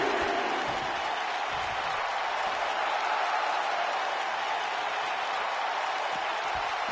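Roaring arena crowd in the SmackDown wrestling video game on PS4, a loud continuous cheer and clapping wash with no break, heard on its own.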